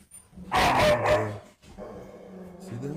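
Pet dogs bark and yip loudly in short bursts nearby, with a whimpering tone between barks, while a person speaks briefly over them.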